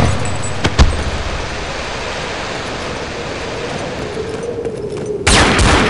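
Gunshots in the video game They Hunger: a couple of sharp shots early, a steady noisy rumble between, then a loud burst of fire near the end.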